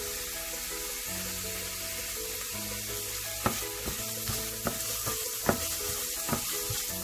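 Chopped onions, ginger and garlic sizzle and fry in a pan for keema, a steady crackling hiss broken by the sharp clinks and scrapes of stirring, close and moderately quiet with no talking.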